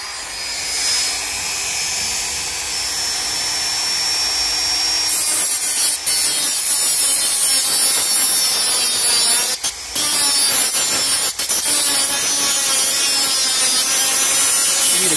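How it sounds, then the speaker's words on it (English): Rotary tool cutting through the bottom of a metal GPU heatsink, a continuous high grinding whine that starts quieter and turns harsher after a few seconds, with brief dips where the tool lifts off. "We're going to Dremel off the bottom part of the heatsink"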